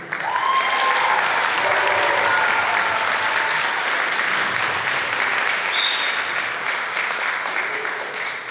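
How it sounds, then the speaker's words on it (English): High school band goodbye concert audience applauding for a band leader, a broad sustained roar of clapping that holds strong for over eight seconds and eases slightly at the end, with a few faint voices mixed in. "round of applause for Mr. Brazier."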